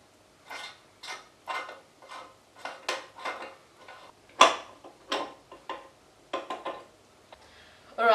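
Metal parts of a meat mincer clink and clatter as the grinding plate is swapped from coarse to fine for venison mince, a string of separate sharp taps and knocks with quiet gaps between them.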